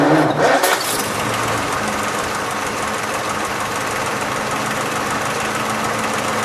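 A 1936 Packard Super 8 engine in a Model 1401 Victoria Convertible cranks briefly, catches, and settles into a loud, steady close-up running rumble.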